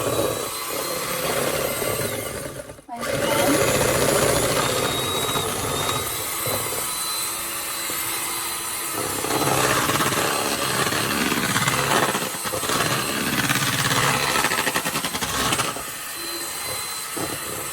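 An electric mixer whirs steadily while beating macaron batter, a loud continuous motor drone with a brief cutout near the start and slight shifts in speed throughout.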